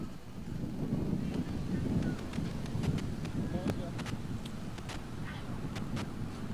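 Strong typhoon wind of about 120 km/h roars and buffets continuously in Manila, with scattered knocks and rattles on top and a voice audible in the background.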